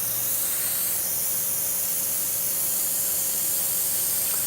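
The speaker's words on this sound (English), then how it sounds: "you just fill it full of water and spray it out" An airbrush spraying water through its nozzle during cleaning gives a steady, close, continuous airy hiss with no breaks and no talking.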